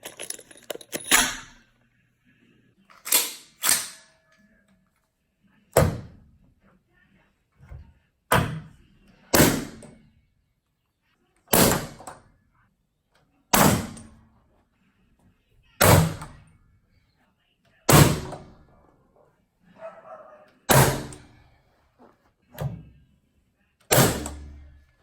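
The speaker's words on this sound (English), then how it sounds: "we're going to use gunpowder to drive these fasteners into the concrete." Hilti DX36 powder-actuated tool firing fasteners through a pressure-treated 2x4 into concrete: about a dozen sharp, loud bangs spaced roughly two seconds apart, each with a short decaying tail, in an otherwise quiet setting.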